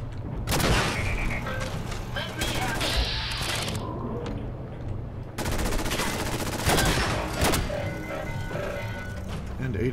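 Rapid gunfire from the video game Fallout 4, dense bursts of automatic shots and booming blasts packed across the stretch with a brief lull near the middle, loud and continuous over game sounds.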